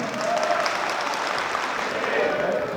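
Supporters of the Guinean opposition party UFDG applaud at a political rally in London, a continuous, dense burst of crowd clapping with some voices mixed in.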